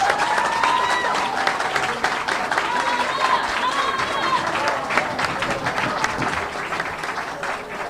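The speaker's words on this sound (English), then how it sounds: "Let's collectively give both our candidates a round of applause, both of them." An audience at a mayoral candidate forum gives a sustained round of applause, thick continuous clapping with scattered cheers and voices rising through it.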